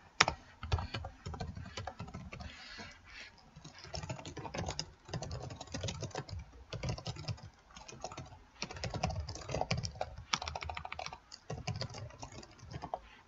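Someone types on a computer keyboard, bursts of quick close key clicks with short pauses between, no voices.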